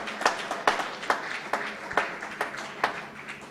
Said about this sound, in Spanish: Amén, un aplauso al Señor.